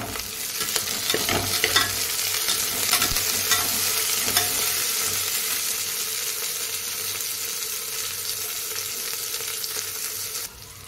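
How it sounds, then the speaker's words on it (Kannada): Coriander and mint fry in hot oil for a mushroom biryani, giving a steady, close sizzle with some stirring scrapes and no talking. "ನೆಕ್ಸ್ಟು ಕೊತ್ತಂಬರಿ ಪುದೀನ ಎಣ್ಣೆಲೆ ಹುರ್ಕೋಬೇಕು"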